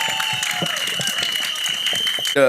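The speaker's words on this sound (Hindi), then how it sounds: "एक बार जोरदार तालियां" Scattered audience clapping at the trailer launch event for the Bollywood film Kis Kisko Pyaar Karoon 2, distinct separate claps over a steady tone and background hum, cut off at the end by a loud voice.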